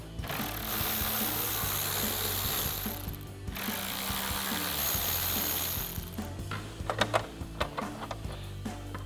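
A T15 Torx socket on a ratchet backs screws out of a 2024-2026 Mustang GT deck lid, giving long stretches of close, steady mechanical clicking that end in a few louder, sharper clacks near the close.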